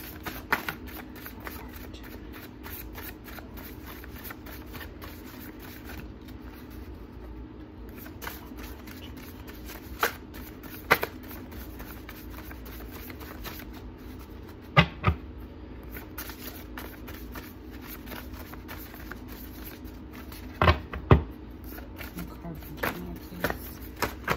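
A deck of tarot cards is shuffled during a Gemini reading. Soft riffling and shuffling continues throughout, with occasional sharper taps, and a voice is present at times.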